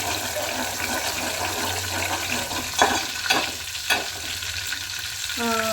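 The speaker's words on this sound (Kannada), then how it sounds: "ಚೆನ್ನಾಗಿ ಫ್ರೈ ಮಾಡ್ಕೊಳ್ಳೋಣ." Garlic fries in hot oil in a pan for a fenugreek leaf curry, with an even close sizzle and a few stirring scrapes, and a short rising tone at the very end.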